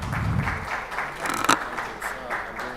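Audience at the Global Islamic Fintech Forum 2025 applauding a speaker called to the stage, a short burst of clapping that swells early, peaks briefly and fades, with some voices mixed in.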